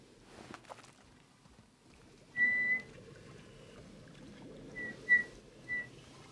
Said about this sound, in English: Yeah, my whistling ain't the best.